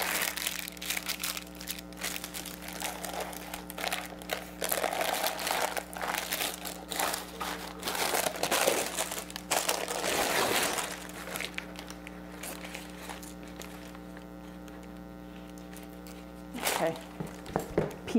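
Parchment paper crinkles and rustles as it is peeled away from a pan of caramel cookie bars. The handling sounds are close and continuous for most of the stretch, with a steady hum behind them.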